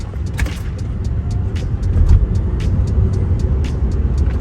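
Rear-wheel-drive Tesla electric car accelerating quickly, a steady near road and tire rumble that swells in the middle, with scattered faint clicks over it.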